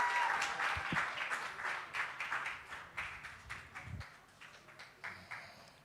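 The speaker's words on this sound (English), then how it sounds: "A round of applause for that." A crowd at an international summit on boys and masculinity gives a round of applause, a fairly distant, moderate clatter of many hands that swells in soft waves and thins out over several seconds.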